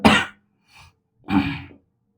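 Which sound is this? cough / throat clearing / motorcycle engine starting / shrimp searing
cough / throat clearing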